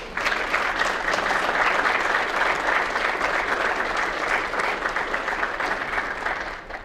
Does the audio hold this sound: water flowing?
no